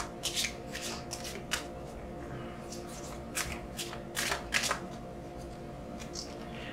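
Tarot cards being shuffled by hand, a soft, quiet run of riffling and sliding bursts coming close together over a faint steady background hum.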